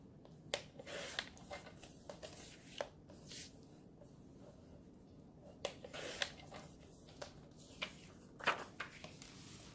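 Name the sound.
cutting paper to make a journal pocket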